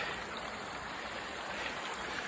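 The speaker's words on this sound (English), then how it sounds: "there's a brave flow in that river" A river in full flow rushes steadily at a countryside glen, a continuous broad roar of water with no voices.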